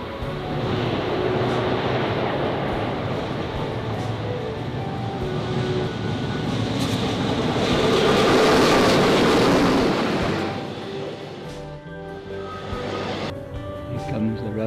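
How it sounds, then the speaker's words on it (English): A rail train in Namibia rumbles past with a broad roaring rush that swells to a peak and then fades, leaving faint background noise. "Rail train is coming through."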